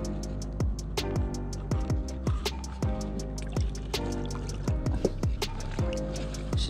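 A homemade crawfish trap is hauled up out of the water, streaming with a rapid, irregular patter of sharp drips and small splashes that carries on steadily throughout.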